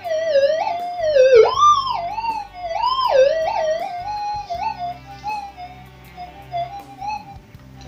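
A GFX 7000 metal detector sounds its target signal, a wavering, rising and falling electronic tone that swoops up and down several times, fairly loud and close, fading into a weaker wobble with faint background noise and no talking.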